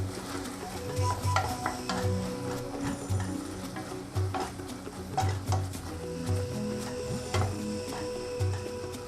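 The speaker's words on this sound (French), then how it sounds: "Pour éviter que ça colle en dessous, il faut tourner, remuer de temps en temps." A spoon stirring Cameroonian mushroom egusi soup in a pot, with repeated rhythmic scraping strokes against the pot bottom over a soft simmer, close and moderately loud, no talk.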